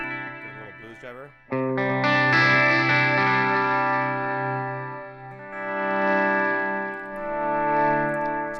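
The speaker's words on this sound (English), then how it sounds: "Get a little blues driver." Electric guitar through a Blues Driver overdrive pedal, played with mild crunchy overdrive: a slide or bend, then sustained ringing chords that swell and fade, loud and close with no talking.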